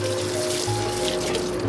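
Butter chicken sauce bubbling and reducing in a pot makes a continuous, close, wet simmering sound, with soft gurgles and low rumble and no talking.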